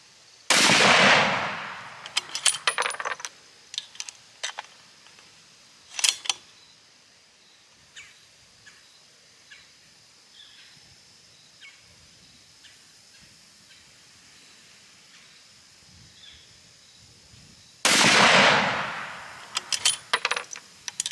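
A Colt CBX precision rifle is fired with rounds single-fed: two loud, sharp shots about seventeen seconds apart, each with a ringing decay, separated by quieter clicks and handling noises of reloading.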